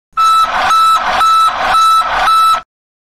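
Five loud, evenly spaced electronic beeps sound in quick succession, each a steady high tone, then stop abruptly: a DPF regeneration warning in a Mahindra Jayo DI3200 light commercial vehicle.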